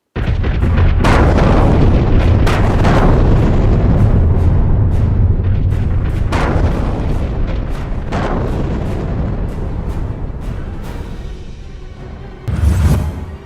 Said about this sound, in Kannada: ಬಳ್ಳಾರಿಯಲ್ಲಿ ಮತ್ತೆ ಗಣಿ ಸ್ಫೋಟ